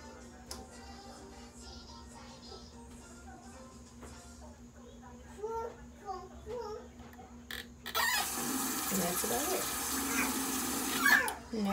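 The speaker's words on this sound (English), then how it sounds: "I'm just going to hop in the shower" Shower water starts running partway through as a loud, broad hiss after a quieter stretch with small knocks and a low hum, continuing steadily to the end.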